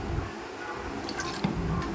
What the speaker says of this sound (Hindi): थोड़ा थोड़ा पानी डाल के